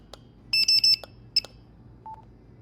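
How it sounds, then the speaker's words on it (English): A few short electronic beeps from the RepairDesk inventory scanner confirming an item was found, a quick cluster followed by a single chirp and a softer lower tone, faint over a quiet background hum. "You can hear the audible feedback of RepairDesk saying, hey, we found the item"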